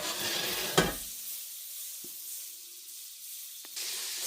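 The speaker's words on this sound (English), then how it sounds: "So we're melting the butter." Butter melting in a hot pan gives a soft, steady sizzle with faint hiss, broken by a sharp clack near the start and a couple of light taps later; close and fairly quiet, no voices.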